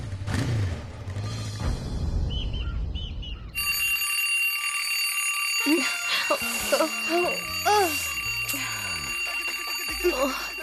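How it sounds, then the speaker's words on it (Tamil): An electronic alarm rings out in steady repeated tones, loud and close, over a busy background of other noises. "என்ன அலாரம் அடிக்குது?"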